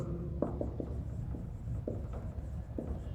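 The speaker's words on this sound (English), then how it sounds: "Okay, last one here I will write group" Chalk or marker writing on a board during a chemistry lecture on the periodic table, heard as a few short scratchy strokes in separate bursts over a steady room hum, with no talking.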